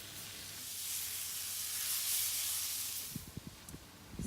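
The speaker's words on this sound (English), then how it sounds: "we're going to add some of our lovely fresh Roma tomatoes, and we're going to cook them down" Fresh Roma tomatoes sizzle in a pan as a soft, continuous hiss, followed by a few brief clatters near the end.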